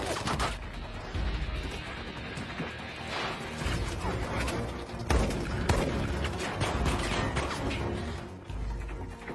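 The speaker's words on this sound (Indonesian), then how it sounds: "pasukan Hobbs pun ditembaki oleh pasukannya Reyes, dan terjadilah tembak-tembakan di situ" A shootout from the film Fast and Furious 5 brings rapid, scattered gunfire bursts and sharp impacts over a busy, chaotic action soundtrack. The cracks repeat irregularly at moderate volume.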